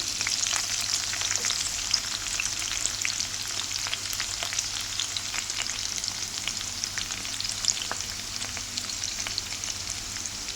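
Onions are stirred as they fry in oil in a curry pan for a fenugreek leaf and broad bean tomato curry, giving a continuous close sizzle dotted with light crackles and spoon scrapes.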